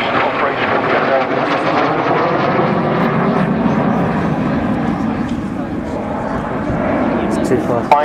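A 1948-built aircraft flies a display at the 2013 Shoreham Airshow at 300 to 400 knots. A loud, sustained engine roar continues for the whole stretch with a steady rumble and whine, and a voice appears to talk over it.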